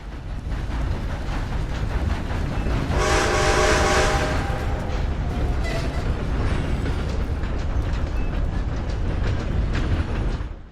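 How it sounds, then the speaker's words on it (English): A train passing in the game Red Dead Online rumbles past steadily for several seconds, with a loud whistle-like horn blast early on over constant heavy clatter. "here comes the train."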